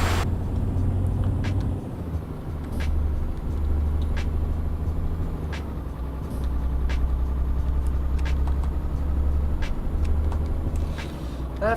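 A truck engine in Euro Truck Simulator 2 revved in neutral, a loud steady low drone holding high revs with slight swells and dips throughout, alone without talk.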